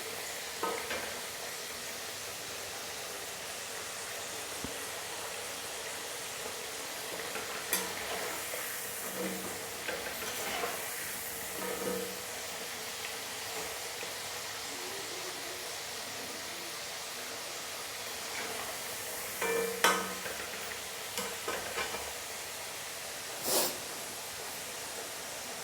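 A crispy potato snack frying in oil, a soft, steady hiss of bubbling with occasional scrapes and clinks of a utensil, fairly quiet and close, with no voices.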